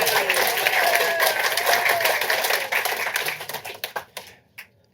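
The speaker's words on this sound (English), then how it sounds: "give a round of applause for that" An audience at a live podcast recording claps loudly with some voices underneath, and the applause thins into a few scattered claps before it stops.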